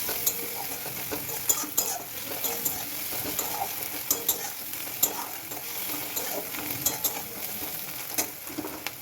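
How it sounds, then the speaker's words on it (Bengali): Ginger-garlic paste for egg tarka sizzles in a pan. Frequent sharp clicks and scrapes from a stirring utensil against the metal cut through a continuous low frying hiss. "একটু ভালো করে আদা রসুন বাটাটাকে কষে নেব"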